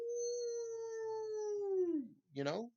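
A voice imitates a long, sustained howl that slowly falls in pitch, breaks off, then ends in a short rough growl-like burst, close and fairly loud.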